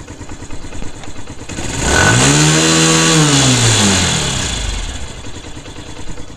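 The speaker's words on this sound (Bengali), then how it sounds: "তো ইঞ্জিনের সাউন্ডটা দেখুন" A TVS Metro Plus motorcycle engine idles, then revs up into a loud, rising drone that holds for a few seconds and falls back to a steady idle.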